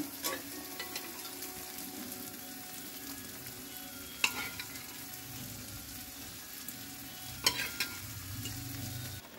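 Boiled dal poured into fried, oil-releasing masala and stirred in a pan, giving a low steady sizzle with a few sharp utensil knocks and scrapes, no talking.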